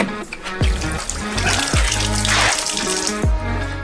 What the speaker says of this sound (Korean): 수박을 수도꼭지로 가져가서 흙을 깨끗이 씻어내요.